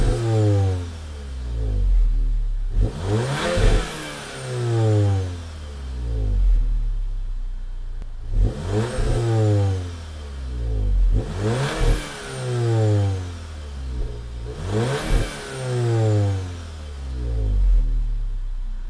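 A tuned Stage 1 VW Golf R 7.5 Estate accelerates hard several times, the engine note climbing through each gear with a crackling shift pop between pulls, repeated in loud surging bursts heard from inside the car.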